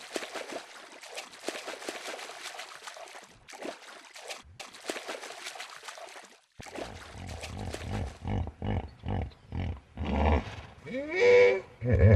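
Hippopotamuses in water make deep, muffled grunting calls, a series of low rhythmic pulses that grow louder near the end, following a stretch of trickling water.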